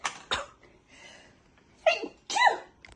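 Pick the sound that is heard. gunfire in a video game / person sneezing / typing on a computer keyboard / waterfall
person sneezing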